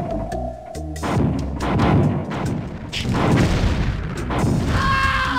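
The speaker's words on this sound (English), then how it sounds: "Nuclear weapon launched." A nuclear weapon launch in a video game brings heavy booming blasts and rumbling artillery-like impacts, loud and continuous, with a rising tonal alert and a synthetic whine near the end.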